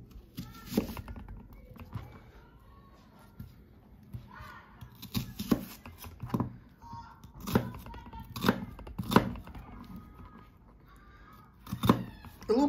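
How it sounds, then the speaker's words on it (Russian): An onion being chopped with a knife on a board, irregular sharp taps in short bursts with pauses, faint background noise from outside. "И теперь мне нужно нарезать лук."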